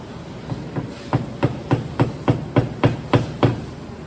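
A steel hammer strikes a chisel cutting into wood for a hand-cut flush bolt recess, with about a dozen sharp, evenly spaced knocks close up and nothing else heard.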